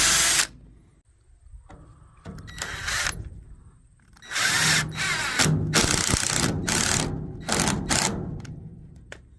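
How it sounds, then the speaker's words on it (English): Several short bursts of a countersink drill pre-drilling into wood, whirring on and off with brief pauses between, close and fairly loud. "I take my countersink drill and I'll go ahead and pre-drill that hole and countersink it"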